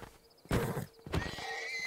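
Horses in an ocean survival video game neigh and whinny loudly in two close bursts, with hoofbeat clip-clops and a lingering tonal cry after the second, no talking over it.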